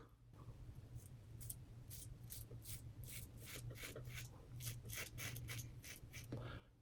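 Cheap disposable razor shaving almost two days of stubble without shave products, a steady series of short close scraping strokes running continuously, with no talk.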